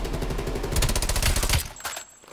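Rapid full-auto assault rifle fire in Call of Duty: Black Ops Cold War, a dense loud burst of shots lasting about two seconds before tailing off.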